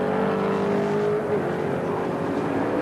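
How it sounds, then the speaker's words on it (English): Sports sedan race cars at Amaroo Park in 1989 roar steadily at close range, with a sustained engine drone and a slight shift in pitch as they pass. "That's the best we've seen Wall's car go all season, I think, here at Amaroo Park"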